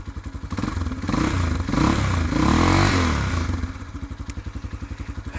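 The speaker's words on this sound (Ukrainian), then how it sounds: "Давайте послухаємо вихлоп." A Shineray Tricker 250 motorcycle exhaust idles with a rapid, lumpy putter, briefly swelling louder as the throttle is blipped, then settling back to a steady idle.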